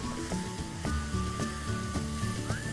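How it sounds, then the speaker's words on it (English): Rice searing in hot oil and ghee in a pan for pulao, a steady close sizzle with periodic stirring scrapes and clatters over a tonal background hum. "just sear the rice for a minute in the oil and ghee"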